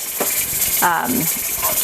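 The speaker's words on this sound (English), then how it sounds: "at least letting off a little bit of the steam a few times a minute" A pressure canner vents steam while home canning pickled coleslaw, sauerkraut and corn: a steady, close hiss runs throughout, with a brief tonal, voice-like sound rising partway through.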